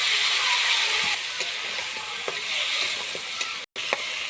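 Chicken gizzard, liver and neck pieces fry with turmeric and salt in a pan, a steady bright sizzle running throughout while a utensil stirs with scattered scraping clicks; a brief break interrupts the sound near the end.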